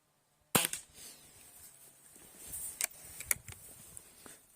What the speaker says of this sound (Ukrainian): стріляю під зріз чорного кола